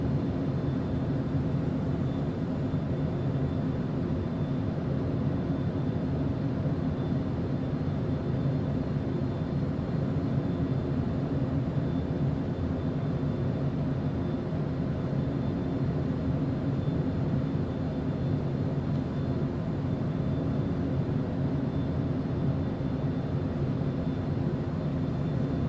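Steady airplane engine drone inside the cabin during a flight from Mecca to Dubai on approach to the airport, a constant even roar with no pauses or talking.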